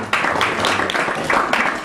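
A crowd claps as a show-of-hands style vote on whether an image is a photo, a burst of full, continuous applause from many people filling the whole moment.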